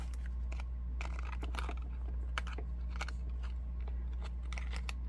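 Scissors snip through fabric scraps in a series of sharp, close cuts at an irregular rhythm, heard over a steady low background hum.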